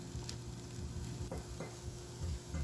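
Stuffed pepper filling is stirred in a pan, with soft scraping and mixing strokes over a low steady sizzle, a few brighter clinks of the utensil against the pan standing out, and no talking.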